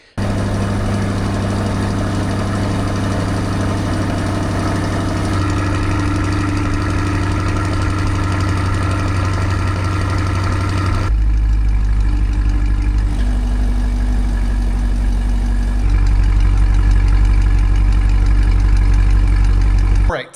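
A C8 Corvette engine with a valved exhaust runs steadily at idle after a cold start, a loud low rumble throughout, with the pitch and texture shifting partway through as the revs settle.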